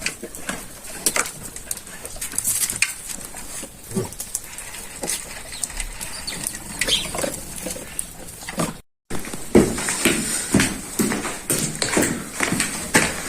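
Pigeons cooing softly in the background amid scattered taps and pecking sounds, with outdoor ambience and occasional rustling.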